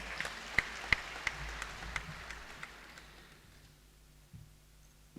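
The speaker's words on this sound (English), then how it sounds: "please give him a round of applause once more" Scattered applause from an audience at a health sector achievements event, a soft patter with a few sharper close claps early on, gradually thinning toward quiet near the end.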